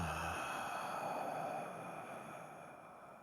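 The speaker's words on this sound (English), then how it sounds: "let's just take a deep breath together" A slow, deep breath is taken in a calm guided moment, heard as a soft, close airy whoosh that gradually fades.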